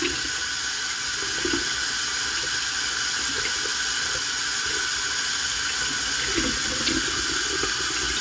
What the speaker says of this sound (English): Waiting for the water to get warm.